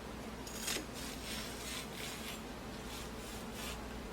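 Repeated soft rasping knife strokes slicing green onion on a cutting board, a quick irregular chopping rhythm, close and fairly quiet.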